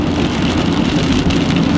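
Heavy rain pours down during an intense thunderstorm in Sheridan, Wyoming, a loud, dense and unbroken hiss of drops hitting surfaces close by, with no voices.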